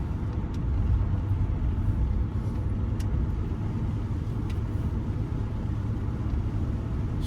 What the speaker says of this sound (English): Very smooth running and driving car.